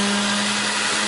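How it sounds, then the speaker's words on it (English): Bench grinder working a piece of heavy scrap brass with a nut lodged inside, a loud steady high whine with a constant hum running through the whole short moment, no voices. "let me hit this on the grinder real quick"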